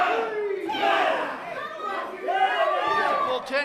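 Crowd at an IZW independent wrestling show chants in unison, a dense roar of many voices rising and falling in a steady counting rhythm for several seconds.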